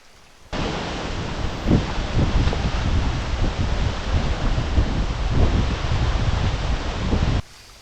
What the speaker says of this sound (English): this wind is very gusty